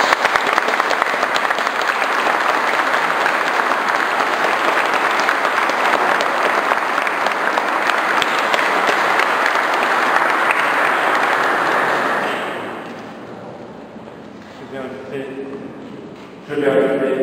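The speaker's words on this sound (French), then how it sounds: "Et nous pouvons applaudir les mariés." Wedding guests applaud the newlyweds, a broad, loud, continuous round of clapping that holds for about twelve seconds, then fades out into quieter room sound and brief voices.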